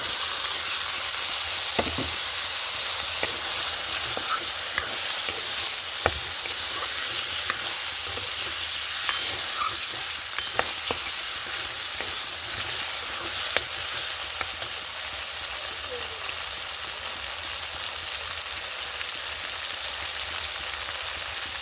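Potatoes sauté with turmeric in a pan, a continuous dense sizzle running unbroken for the whole stretch, with scattered light clicks of stirring close by and no talking.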